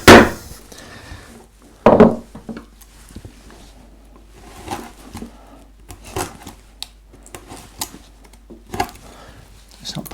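Hand carving of wood with a gouge, producing sharp, sparse knocks and scraping cuts at irregular intervals, close and fairly loud, with quiet gaps between strokes.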